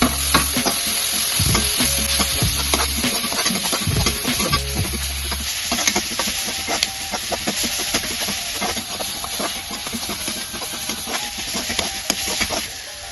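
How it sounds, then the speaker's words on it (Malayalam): Tomatoes with turmeric sautéing in a pan for Kerala-style chicken curry, a constant close sizzle with frequent spoon scrapes and stirring knocks, steam hissing underneath, no voices. "എന്നിട്ട് തക്കാളിയും കൂടെ ഇട്ട് നമുക്ക് വഴറ്റിയെടുക്കാം"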